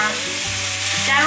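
Red mushrooms and cucumber sizzle loudly in a hot pan while being stir-fried, a dense steady hiss close up with no talking.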